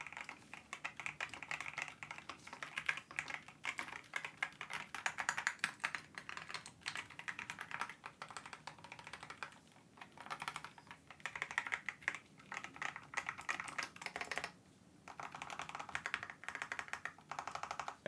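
Rapid, continuous clacking of keys on a Keychron Q14 Max Alice-layout mechanical keyboard, steady and close, with a brief pause near the end before the typing resumes.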